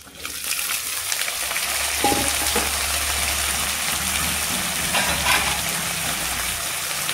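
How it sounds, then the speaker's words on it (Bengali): Two medium sliced potatoes hit a pan of frying onions, setting off a loud, dense, continuous sizzle that stays even and close throughout with no talking. "এখন দুইটা মিডিয়াম সাইজের আলু কেটেছি, এটা এখন পেঁয়াজের সাথে ঢেলে ভেজে নিব"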